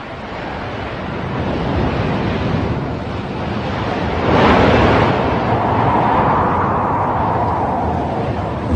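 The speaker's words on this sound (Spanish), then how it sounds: "Llegaron a unas rocas contra las que altas olas se rompían con un estruendo salvaje." High waves crash against rocks as a radio-drama sound effect, a loud, continuous roaring surf with a swelling wash midway and wind-like hiss throughout, with no voices.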